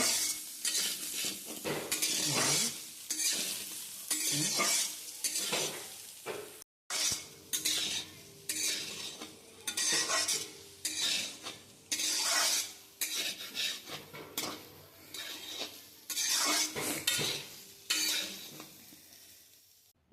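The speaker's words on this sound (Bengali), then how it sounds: "সয়াবিনটা খুব ভালো মতো তেলের মধ্যে নাড়াচাড়া করে ভাজতে হবে" Soybean chunks fry in hot oil in a kadai, a constant sizzle overlaid by repeated close scraping and clattering strokes of a spatula stirring them, with one brief pause partway through.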